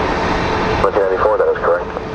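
An airliner taxiing fast at Phoenix Sky Harbor airport gives off a steady, broadband engine roar, with a voice talking over it for most of the clip.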